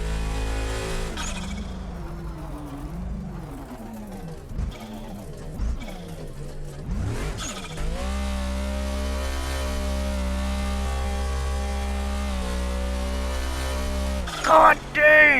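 A race truck engine in the BeamNG Drive driving game idles low, then revs hard and launches with a sustained roaring drone; someone talks over the start and the end.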